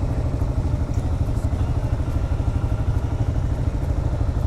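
A Kawasaki KLR 650 motorcycle being ridden gives a loud, steady single-cylinder engine drone with a rapid pulsing throb and wind noise throughout.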